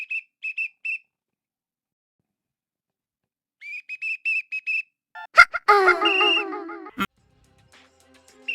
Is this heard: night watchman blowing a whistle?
yes